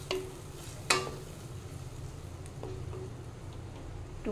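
A spoon stirs milk into a dudh potol curry in a pan over a low flame. The scraping is soft and quiet, with one sharp clink early on and a few lighter taps.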